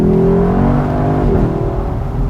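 Lexus LC 500 Convertible engine in Sport Plus mode rumbles loudly and deeply while downshifting, with a brief blip in pitch partway through; the sound is steady, close and dominant without speech.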